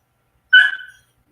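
A dog gives a single short, high-pitched yelp or whimper, close and clear, surrounded by silence.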